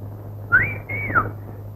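A person whistles a short two-note wolf-whistle-like call inside a police station, clear and close over a low steady hum.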